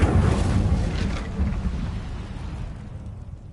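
A fire spell in Hogwarts Legacy erupts with a loud, deep whooshing blast that rumbles and then fades away over a few seconds.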